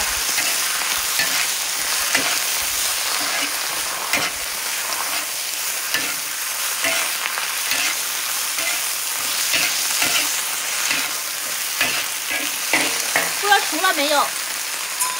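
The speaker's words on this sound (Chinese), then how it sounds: "爆炒一下啊" Food sizzles and crackles steadily in a hot wok while it is stir-fried, with repeated scraping stirs through a continuous loud hiss. A few faint vocal sounds rise near the end.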